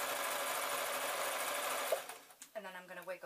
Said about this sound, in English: And then I'm going to sew 4 inches,